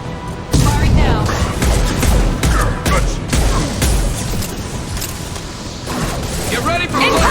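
Weapons fire in the video game Mass Effect 2 on Omega, a dense continuous barrage of loud rapid shots and mechanical clatter throughout.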